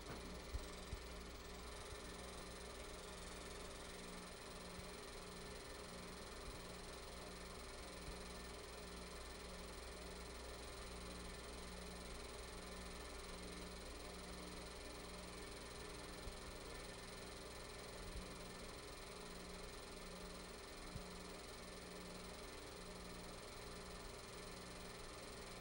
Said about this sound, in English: this train as it goes away from us